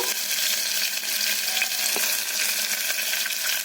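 Onion, green chili, ginger pieces and curry leaves frying in a hot pan for millet upma, giving a steady, dense sizzle that holds evenly throughout with no voices.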